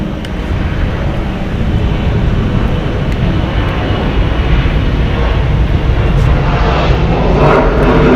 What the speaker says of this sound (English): It's a Boeing 757-300, 19 years old.